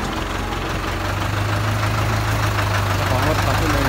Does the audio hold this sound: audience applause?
no